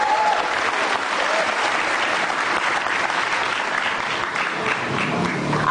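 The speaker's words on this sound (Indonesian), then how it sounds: "kasih tepuk tangan dong geng motor imut" A studio audience applauds steadily for a youth motorbike group from Nusa Tenggara Timur, dense and continuous clapping that fills the room from start to finish.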